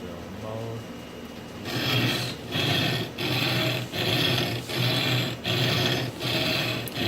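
A linear abrasion test machine runs with an H22 abrasive wheel, giving rhythmic back-and-forth rasping strokes, about six evenly spaced loud passes after a quieter start, close and harsh.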